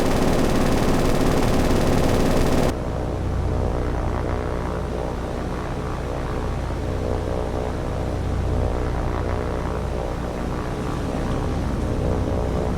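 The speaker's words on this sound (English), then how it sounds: "It's like that float plane's turning into us. Totally missed. Now it's doing this circling battle where the tail gunner is shooting at me." Float plane circling overhead in a War on the Sea naval battle, its propeller engine droning steadily and loudly for the whole stretch, with a harsh burst of noise at the start; the tail gunner's fire is not separately distinct.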